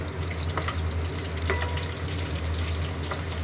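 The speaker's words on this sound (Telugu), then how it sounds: "ఫస్ట్ పచ్చిమిర్చి వేసుకోవాలి" Green chillies fry in hot oil for chicken curry, a steady crackling sizzle with a low hum underneath and occasional stirring clinks, with no voices over it.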